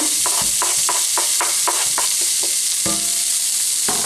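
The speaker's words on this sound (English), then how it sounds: "I'm going to fry this onion until it starts to soften" Diced onion fries in a hot pan with a dense, loud sizzle, while a utensil knocks and scrapes against the pan in a quick, regular rhythm of about a dozen strokes.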